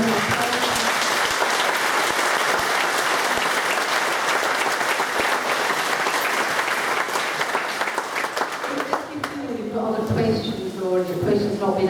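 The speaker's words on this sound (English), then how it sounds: "To give them a bit of applause." Dense, sustained applause from the audience at a public meeting in Larbert, a steady wash of clapping that fades near the end as a voice begins speaking.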